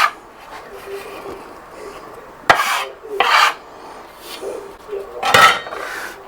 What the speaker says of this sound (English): Scrape that all up.